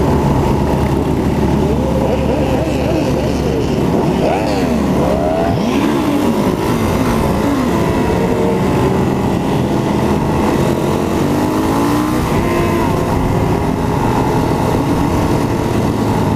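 A motorcycle at a memorial group ride revs loudly and close by, its engine rising and falling in repeated throttle blips over a steady idle, while people talk and shout under it.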